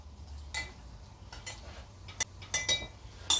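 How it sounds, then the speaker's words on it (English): A spoon stirs cornstarch slurry for a shrimp and snow pea stir-fry, giving soft, sparse clinks and taps against the bowl over a low background hum, with a brighter clink near the end. "Let me use this spoon right here. Make sure you mix up that cornstarch."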